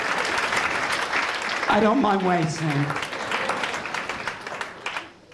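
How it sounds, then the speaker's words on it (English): Audience applause at a comedy show fills the room, with someone talking over it partway through as the clapping carries on steadily. "I can wait if you want to clap."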